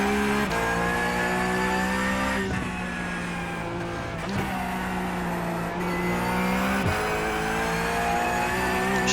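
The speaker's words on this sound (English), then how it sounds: "Shift to 3rd so I can get on the throttle pretty hard." Porsche Cup race car accelerating hard in 3rd gear at VIR, a loud close engine note climbing steadily in pitch with brief dips at gear changes, over a continuous road and wind roar.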